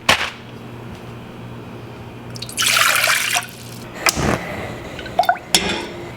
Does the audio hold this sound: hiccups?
no